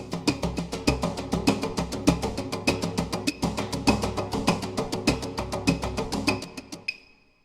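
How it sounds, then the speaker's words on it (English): A steady, driving groove of djembe and other layered percussion for survival horror game music, dense rhythmic hits continuing for several seconds before stopping abruptly with a brief ring-out. "all the percussive elements in the third layer sound like this"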